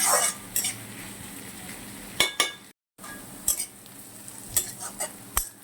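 Onions and green chilies frying in a pan while being stirred, a steady sizzle broken by several sharp scraping and clinking strokes of a utensil against the pan, close and fairly loud, with one brief dropout.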